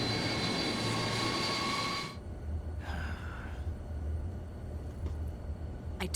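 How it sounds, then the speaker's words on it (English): Deep, steady drone of a very large airplane's engines inside the Metal Gear Solid 3 game, a continuous low rumble that drops in level after a loud opening broadband whoosh and carries on faintly beneath a brief breathy sound. "This is a very big plane."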